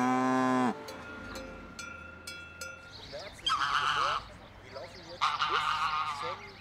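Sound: geese shrieking on a farm

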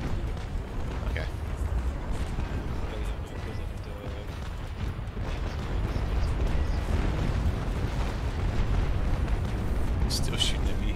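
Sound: ship cannon fire in Naval Action video game

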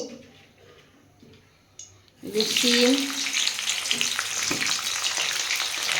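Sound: frying winter vegetables in hot oil

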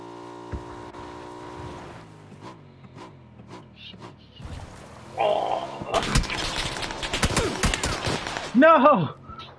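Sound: gunfire in the video game PUBG

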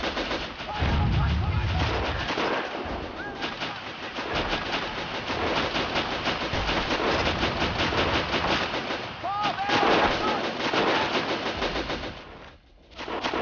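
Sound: machine gun fire in video game Battle of Empires

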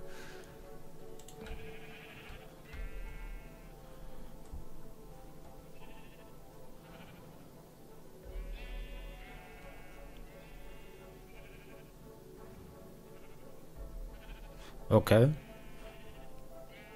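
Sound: sheep bleating in Minecraft video game

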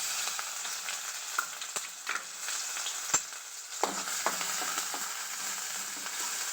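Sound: onion tempering with asafoetida sizzling in hot oil

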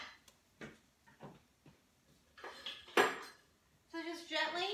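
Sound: turning cauliflower steaks over in a cooking pan

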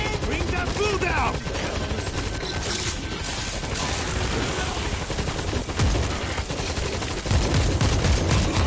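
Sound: auto turret gunfire in video game World War Z

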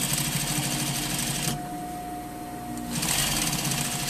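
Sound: sewing machine understitching a front fly facing

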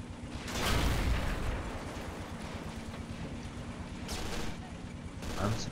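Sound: gunfire at a tank in video game Men of War Assault Squad 2

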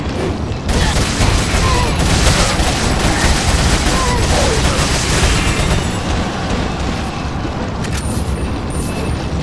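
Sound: gunfire in the video game Resident Evil 4

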